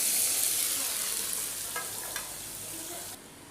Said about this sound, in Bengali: আমি এবার দিয়ে দিচ্ছি পেঁয়াজ কুচি।